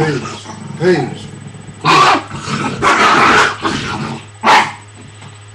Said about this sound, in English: He's trying to get my dogs out because they over here fighting and stuff.